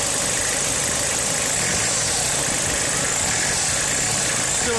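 A car engine idles on newly fitted engine mounts after throttle body work, a loud, steady mid-pitched drone with a continuous hum and slight vibration, no voices over it.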